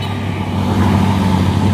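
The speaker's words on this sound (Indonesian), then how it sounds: "Satu unit truk tangki CPO Hino Ranger" A Hino Ranger CPO tanker truck labours up a hill, its deep diesel engine droning loud and close with a steady low rumble and rising strain, over passing road traffic.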